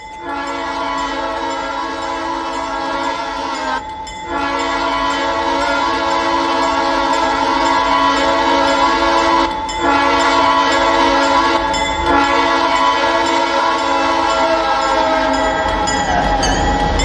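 An Edison Valley Railroad train rolls past with its horn blaring in long, loud blasts broken by short gaps, the wheels rumbling steadily underneath.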